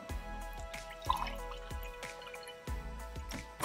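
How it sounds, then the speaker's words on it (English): Fruit punch poured into a glass, a faint series of gurgling splashes and drips as the liquid lands, intermittent and close, with no talking. "I'm gonna pour her a nice little glass here."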